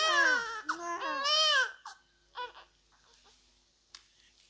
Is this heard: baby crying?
yes